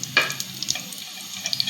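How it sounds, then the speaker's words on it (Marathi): Taro stems sizzling in a small amount of hot oil as bhaji fritters, a soft steady hiss with sparse crackles and pops close by, no talking. "हे देठ याच्यामध्ये टाकायचं आणि त्याची भजी करायची."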